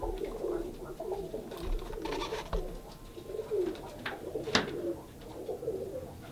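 Pigeons cooing in a breeding loft holding about sixteen pairs, with soft overlapping coos and a few brief calls continuing through the whole stretch at moderate distance against a steady low room murmur.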